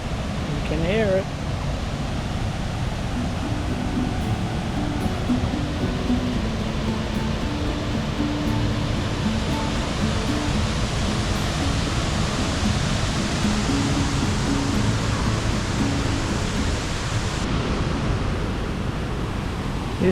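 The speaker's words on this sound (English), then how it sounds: "Paronella Park and the big waterfall." The big waterfall at Paronella Park sends up a steady, dense roar of falling water, an unbroken broadband rush that stays loud and even throughout with no break.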